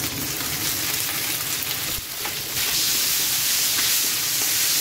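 Potatoes fry in a pan on a kitchen stove, giving off a steady broad sizzle and hiss close up that swells slightly partway through, with no voices heard.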